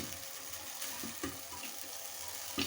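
Popcorn kernels frying in a pan over medium-low heat, with a few sparse pops over a faint background sizzle, quiet and close.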